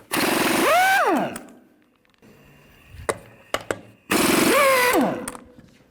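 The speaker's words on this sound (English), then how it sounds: "Take the lug nuts off. Use a 22mm socket." Two loud bursts of an impact wrench spinning lug nuts off a front wheel of a 1992-or-later Ford E-250 van with a 22mm socket, each rising whine dropping away, with a few faint clanks between them.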